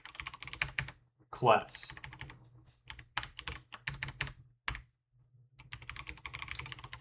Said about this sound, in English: wow, I can't type